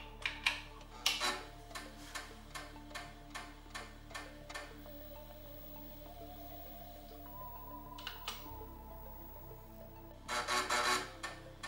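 A BBC Micro floppy disk drive loads a game: a run of evenly spaced clicks from the head stepping, then a quieter whirring hum, and a final burst of rapid close clicking.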